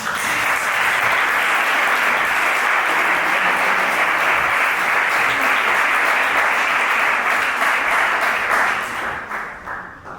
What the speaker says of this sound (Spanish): Ricardo, un aplauso, por favor.